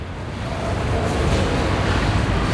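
Played-back recording of the Southeast Asian tsunami waves, a continuous deep roaring rumble of surging water and wind that swells slightly louder after the first second, steady and unbroken with no talk.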